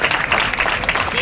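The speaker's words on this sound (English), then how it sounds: "Can you guys give a round of applause to Kobe Dennis?" A brief burst of audience applause at a community event, dense and loud, many hands clapping together for a little over a second.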